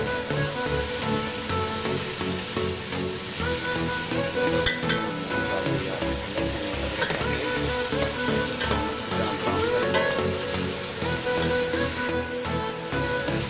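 Food browning in a pan with tomato paste gives a dense, continuous crackling sizzle, close and steady for the whole stretch, with a few brief clinks and no voices.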